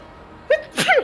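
A single sharp human sneeze, a quick inhaled catch followed by an explosive burst, close and loud, with no talk during it.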